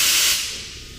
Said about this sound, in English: make a loud blast, try and pop the rim onto the tire to get our bead seated